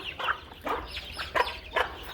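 Chickens at a home coop cluck in short repeated bursts, four or five close calls spaced fairly evenly over steady low background noise.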